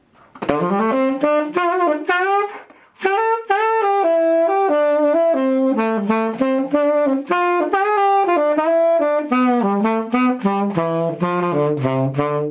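Melodic example of chromatically linked pentatonic scales, played as a bright run of distinct notes that rises and falls through shifting pitch areas, continuous and clear with a brief pause near the start, no talk.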